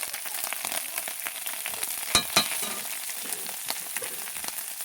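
Fish sizzles in a little oil with turmeric powder, a continuous crackling fry close by with a couple of sharper pops midway and no voices.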